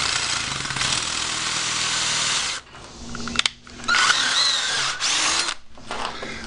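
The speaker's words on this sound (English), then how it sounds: "I just put my drill bit through there." A power drill drilling through metal EMT conduit whines loudly and steadily, then cuts out, followed by shorter bursts of drilling and brief pauses between them, close up.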